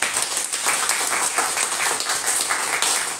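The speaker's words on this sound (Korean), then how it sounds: "경례하실 때 큰 박수로 환영해 주시겠습니다." A church congregation claps in warm welcome at an honorary elder ordination service, a continuous patter of many hands at moderate distance.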